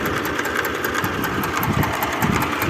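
A Lider 220 mini tractor engine idling steadily up close, with a continuous rattling chug and a faint rhythmic knocking from under the engine cover throughout.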